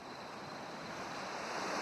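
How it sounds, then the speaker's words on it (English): Ocean waves crash and wash in a soft, steady rush of surf that swells slightly louder toward the end, quiet and with no voices. "The melody is accompanied by the sound of the crashing waves."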